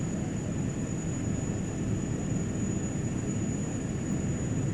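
Saab 340A turboprop engine spooling up during a start in the X-Plane 11 flight simulator, a steady loud broadband roar with a thin high whine held throughout, no talk.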